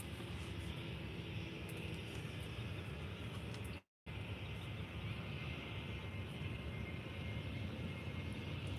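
A Jet2 airliner bound for Newcastle at Faro Airport fills the air with a steady, broadband jet-engine roar that runs continuously, except for one abrupt break of silence near the middle.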